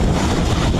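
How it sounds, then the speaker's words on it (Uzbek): Water gushes from a diesel-powered farm water pump in a loud, steady, broadband rush that fills the whole short moment close by. "Suvimiz chiqdi mana."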